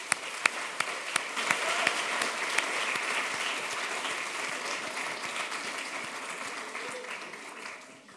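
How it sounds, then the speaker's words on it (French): Warm audience applause at the final of a business school eloquence contest, a thick continuous round of clapping with a few sharp individual claps standing out near the start, steady for eight seconds before easing off at the end. "Un tonnerre d'applaudissements pour eux, s'il vous plaît."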